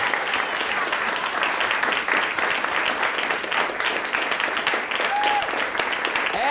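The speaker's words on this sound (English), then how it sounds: "please put together a powerful and potent round of applause for Natalie Fraser from West Anchorage High School" Audience applause at a state high school poetry recitation competition, a loud, dense and steady clapping from a large crowd, with a faint whistle or cheer rising briefly near the end.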